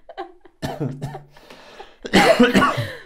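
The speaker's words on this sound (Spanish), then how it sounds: "perdón por la tos para la gente que esté escuchando esto con los audífonos" Coughing breaks through a stretch of talk, with a louder burst of rough coughs near the end.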